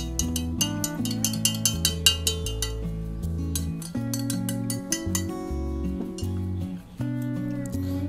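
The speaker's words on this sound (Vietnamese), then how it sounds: "Các bạn cho thêm vào 500ml nước. Và chúng ta sẽ khuấy đều lên." A spoon clinks rapidly against a container while 500 ml of water is stirred, the light metallic taps ticking in quick rhythm beneath steady background music.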